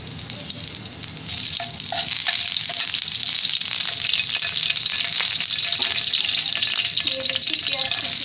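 Bay leaves sizzle in hot oil in a kadai while a beef singara filling is started: a quieter hiss at first, then a steady, loud frying crackle from about a second in that carries on to the end, with no voices.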